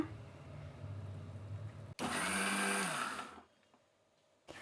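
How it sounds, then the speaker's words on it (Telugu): A mixie grinds chutney with added water for the Telugu idli and ragi dosa meal, a loud steady whir lasting over a second before winding down, with a quieter rumble ahead of it. "కొంచెం మిక్సీ పట్టేసినాక మళ్ళీ నీళ్ళు వేస్తున్నా."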